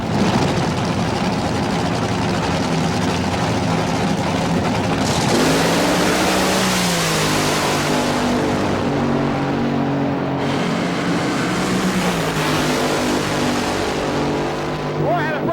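Fuel dragsters from California idle and rev loudly at the starting line of a 1987 Bakersfield fuel and gas championship, a thick rumbling engine drone with pitch shifts as throttles rise, while a commentator talks over it.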